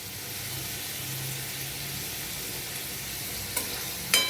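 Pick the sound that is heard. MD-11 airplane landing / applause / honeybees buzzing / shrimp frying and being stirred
shrimp frying and being stirred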